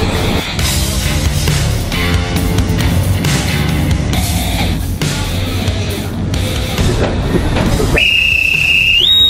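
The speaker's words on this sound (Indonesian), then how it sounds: "Peluit pelepasan telah dibunyikan." The departure whistle of the Indonesian Navy sail training ship KRI Bima Suci sounds near the end as a steady, high, sustained tone, following a stretch of loud, dense background noise.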